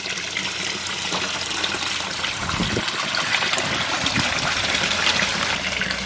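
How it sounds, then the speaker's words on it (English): Pond water dripping and trickling off an EPDM filter box cover back into the pond at night, a continuous close splashing patter that swells slightly partway through. "it obviously is dripping back into the pond"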